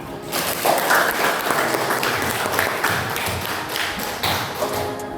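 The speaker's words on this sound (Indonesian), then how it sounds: "Tepuk tangan." Students in a 10th-grade science class at a high school applaud together, a steady dense patter of clapping that fills the room for several seconds at close range, with a few thumps and no clear talk over it.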